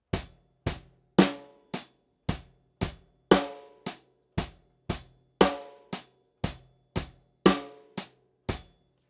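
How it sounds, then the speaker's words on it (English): Rock drum beat on a kit, kick drum and hi-hat struck together in a steady pattern with heavier accented hits recurring, close and clear with no talking, about fifteen strokes. "so kick and hi-hat, hands together, hi-hat"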